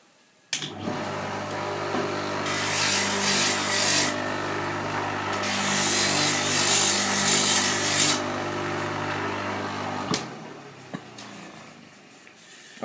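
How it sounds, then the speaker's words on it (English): A worn sanding drum grinds against the edges of a wooden boomerang, a steady rasping whir that swells louder in two surges as the wood presses in, then cuts off, leaving faint scrapes. "I use a worn out sanding drum"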